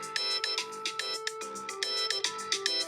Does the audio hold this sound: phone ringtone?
yes